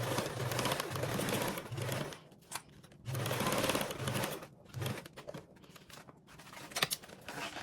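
A sewing machine stitches fabric at a quarter-inch seam allowance in several loud, close bursts of rapid whirring, with brief pauses and small handling noises between runs.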